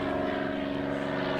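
A propeller airplane drones steadily overhead near an airport, a loud continuous engine hum with layered tonal whine and no voices.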